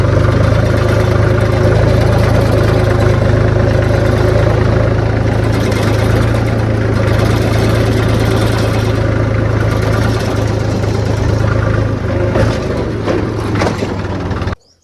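A tractor engine idles near a farm field with a loud, steady low rumble throughout and a few faint cracks late on.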